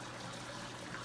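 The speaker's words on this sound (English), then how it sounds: "The overflow system is right here on all of the tanks I just mentioned." Water trickles steadily through the overflow system of a 150-gallon African peacock cichlid tank feeding a custom sump; a faint, even wash with no talk.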